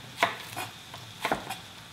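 A knife chops through a large green onion (daepa) on a cutting board in a sequence of crisp, close strikes. The rhythm is uneven, with pairs and singles spaced across the moment, and the kitchen is otherwise quiet with no talking.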